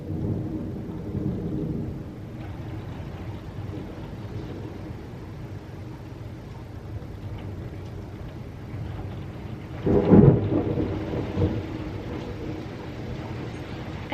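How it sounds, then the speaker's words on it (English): A thunderstorm with rain rumbles in low, continuous tones, and a louder thunder roll swells near the end. Nobody speaks over it. "it's storming."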